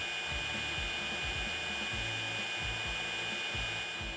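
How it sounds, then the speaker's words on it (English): String trimmer head on a 40V cordless 14-inch trimmer spinning, a steady high electric whirring whine with faint low thumps underneath, continuous and fairly quiet, no voices. "The trimmer head will start to spin."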